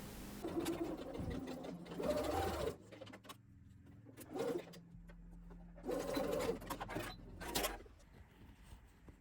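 A sewing machine stitches dress straps at the neckline edge of a shirred dress, running in several loud bursts of rapid stitching separated by short pauses and quieter handling sounds.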